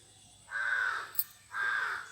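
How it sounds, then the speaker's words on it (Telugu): Crows cawing in the grounds of the Kanchi Kamakshi temple, two long, loud harsh caws about a second apart, with a brief sharp chirp between them against quiet background. "కాకులు బాగానే అరుచుచున్నవి."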